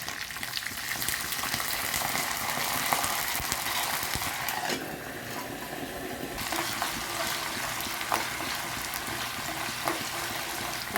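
Green chillies and curry leaves frying in hot oil in a pan, a loud, steady sizzle and crackle with bubbling spatters that continue throughout.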